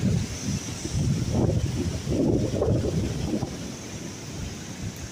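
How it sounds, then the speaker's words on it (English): Gusting wind by a river at a canoe camp blows across the microphone in loud, uneven buffeting waves, with a constant faint hiss underneath. "the wind's picking up now"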